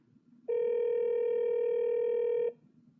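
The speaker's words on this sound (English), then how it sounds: "To return a call from a voicemail, tap the callback button. And now I'm calling Anna." An iPhone calling back from voicemail gives a single clean electronic ring tone, a steady buzzing tone lasting about two seconds before cutting off, alone over faint room hiss.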